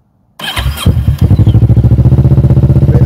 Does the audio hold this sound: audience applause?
no